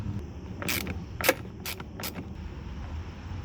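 A Torx driver works a bolt loose from a Sea-Doo Spark personal watercraft hull, giving four short, sharp mechanical clicks spaced evenly over a low background hum, with no talking.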